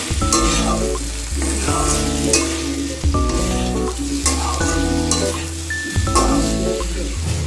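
Potato and pumpkin curry with turmeric stirred and frying in a pan, a steady loud sizzle with regular scraping strokes of the spoon, under soft background music.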